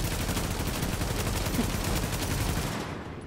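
Suppressing gunfire in The Division video game, a rapid continuous stream of automatic shots at steady volume that dies away near the end, with no voices over it.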